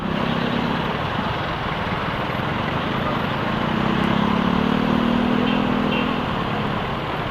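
Busy street traffic on Don Antonio with cars and motorcycles, a continuous near rumble of engines and tires that swells in the middle as a vehicle passes closer, with no talk.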